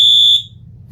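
A 12V alarm wired to a timed relay gives a shrill, steady electronic tone that cuts off abruptly after under half a second, leaving a faint low electrical hum.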